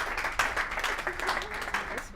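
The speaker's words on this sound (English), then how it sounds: "give a round of applause." A small room of people gives a round of applause at a healthcare and blockchain meetup, with uneven, distinct claps close by and speech-like sounds mixed in.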